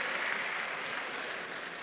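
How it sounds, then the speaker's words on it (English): An audience applauds a Scripps National Spelling Bee champion at an awards ceremony, brief dense clapping held at a steady, moderately faint level throughout, with no talk over it. "Give him a big round of applause."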